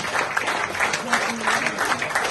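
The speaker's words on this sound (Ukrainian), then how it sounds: "Ці оплески для сил спеціальних операцій" Applause at a birthday charity gathering, rhythmic clapping from a crowd with voices audible underneath.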